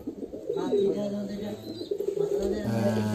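Pigeons coo in a loft, soft rounded calls repeating close by while a person talks over them.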